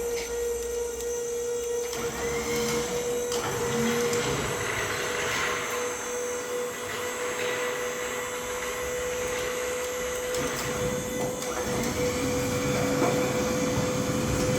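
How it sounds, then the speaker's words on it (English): A hydraulic hoist on a Horizon RDZ truck chassis lifts a ROZ roll-off deck, giving a steady, droning pump whine with a constant hum and occasional faint clunks, no voices. "we simply take our winch controls and our hydraulic boom controls right here. Begin lifting."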